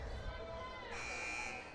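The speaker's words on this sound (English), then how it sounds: "Game clock malfunction here as we had a buzzer go awry." A basketball game clock buzzer malfunctions during a high school game at Brainerd High School, sounding a sustained electronic tone that shifts pitch partway through, over crowd babble in the gym.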